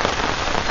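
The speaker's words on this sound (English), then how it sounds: "it's absolutely pouring it down" A heavy downpour of rain on a carp fishing outing, drumming loudly and steadily on a nearby surface as an unbroken wash of noise.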